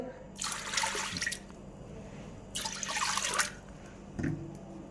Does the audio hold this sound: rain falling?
no